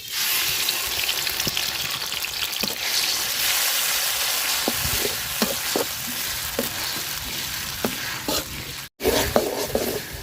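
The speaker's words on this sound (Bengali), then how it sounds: "মশলাটা খুব সুন্দর করে আমি ভাজা নিছি তেলের সাথে" A ground paste of onion, chili, garlic and ginger fries in hot oil in a pot, a loud continuous sizzle close up, dotted with sharp clicks and taps of stirring and a brief cutout near the end.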